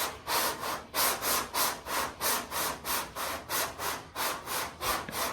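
Hand block sanding on a car body panel during paint prep makes a steady back-and-forth rhythm of about a dozen even, scratchy strokes, close and clear with no voices.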